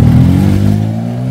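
A motorcycle engine running loud and close, with a strong harmonic drone that revs briefly and then settles to a steady idle, alone without talk.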